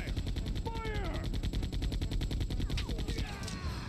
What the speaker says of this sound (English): If two machine guns didn't work, I'll take you down with one!